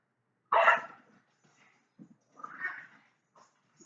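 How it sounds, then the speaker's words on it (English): A dog barks at moderate distance, one sharp bark followed by softer, scattered yips and a second muffled bark in an otherwise quiet room. "Oh man, here goes the dog."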